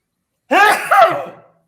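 A single close, sharp sneeze bursting out in two quick parts, then fading, with silence before and after.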